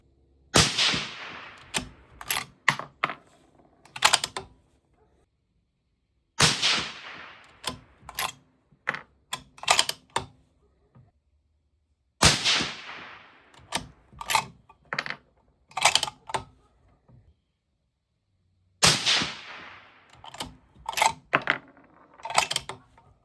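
Four volleys of 6mm Creedmoor rifle shots, several sharp cracks each with short gaps between groups, heard from a distance and fairly faint.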